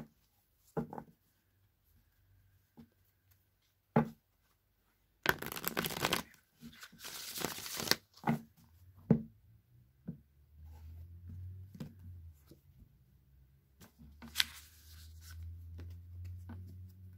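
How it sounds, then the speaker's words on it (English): Close, quiet tarot card handling: scattered taps and flicks, then two brisk riffling shuffle bursts, followed by soft slides and a cut of the deck. "So I'm going to shuffle three times, and then I'm going to cut the deck"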